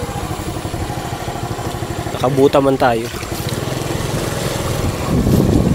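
A motorcycle rides through deep flood water, its engine a steady low putter with water sloshing around it, while someone speaks briefly over the noise midway and the churning swells louder toward the end.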